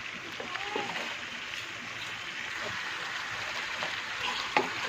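Mutton goes into softened onions in a hot pan, giving a steady broad sizzle and frying hiss with a few stirring clinks, close and moderately loud, with no talking.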